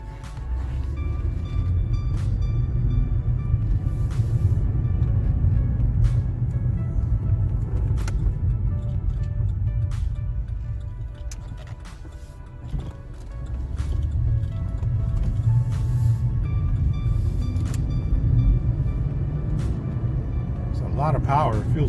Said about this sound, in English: I'm going to go ahead and take this little CTS-4 for a test drive.